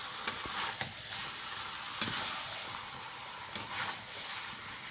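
Meat, with potatoes added, stir-fried in a pan, a steady close sizzle and hiss broken by a few scraping stirs and knocks, no voices.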